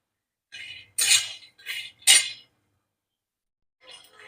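Metal utensil scraping and clinking against a pan while peanuts are roasted for a curry-leaf chutney, coming as four quick bright clatters in close succession and then one softer rattle after a pause.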